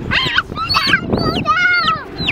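A pet chicken gives a string of loud, nasal honking calls in quick succession, close by and outdoors on a Hawaiian island.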